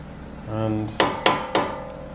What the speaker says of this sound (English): to get them out, we need to hit out these pins